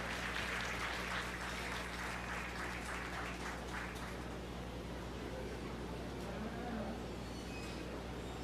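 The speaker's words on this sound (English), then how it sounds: "So please join me in a round of applause." Applause fills a barn at a county 4-H beef cattle show, steady and broad from a crowd, honoring a barn superintendent, slowly thinning toward the end with some chatter underneath.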